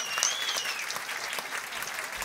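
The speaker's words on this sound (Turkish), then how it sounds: "Büyük bir alkış alabilir miyiz?" Big audience applause on a Turkish talk show greeting guest artist Can Ozan, a continuous wash of many hands clapping at moderate volume, with a faint whistle near the start and no break throughout.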